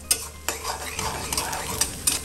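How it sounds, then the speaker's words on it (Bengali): Dried fish (shutki) being stirred and fried in a pan over medium heat, a soft steady sizzle with several sharp scrapes and clinks of the utensil against the pan, no voices. "এখন সব কিছু দিয়ে আমি নাড়াচাড়া দিচ্ছি, চুলার আঁচ মিডিয়াম রেখে আমি 1 থেকে 2 মিনিট শুটকিটাকে ভেজে নিব।"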